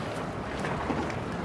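Racing powerboat crewed by two, one on throttle and one steering, out on open water; a steady broadband roar of engine and rushing water with wind buffeting the microphone, continuous and fairly close throughout.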